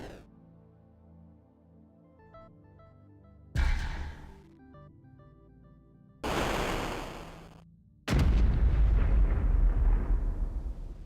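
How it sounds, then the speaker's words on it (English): A string of 8-bit game explosion effects plays loud and alone: faint fading tones, then three successive noisy blasts, the last a big sustained rumbling explosion that fills the low end. "that big explosion number 1 is pretty legit"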